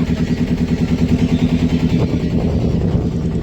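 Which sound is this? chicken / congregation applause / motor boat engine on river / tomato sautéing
motor boat engine on river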